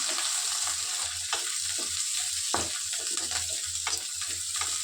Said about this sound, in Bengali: পেঁয়াজটা লঙ্কাটাও একটু তেলে ভেতরে দিয়ে দিলাম